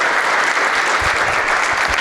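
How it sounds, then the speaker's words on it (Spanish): Applause breaks out for a speaker at a regional development and cannabis policy dialogue, a dense steady wash of clapping from an audience filling the whole moment at close range. "un aplauso para mi amigo Gabriel"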